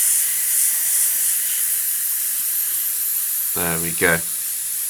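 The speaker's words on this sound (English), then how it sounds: "Sound of my compressor running out of air" An airbrush compressor, used while painting a 1/32 scale Wingnut Wings RE.8 model, gives a steady, loud airy hiss throughout, with a brief spoken phrase near the end.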